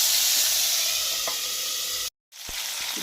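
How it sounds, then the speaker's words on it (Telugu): Ginger garlic paste sizzles in a hot pan with a steady bright hiss that briefly cuts out to silence and then returns, with a few faint clinks over the frying. "ఇప్పుడు మనం అల్లం వెల్లిపాయ పేస్ట్ వేసుకుందాం. ఇది కొంచెం పచ్చివాసన పోయేంత వరకు వేయించుకుందాం."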